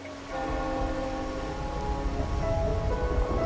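Rain falls steadily in the video game Wuthering Waves, a soft, constant hiss of drops on surfaces, with faint sustained musical tones underneath.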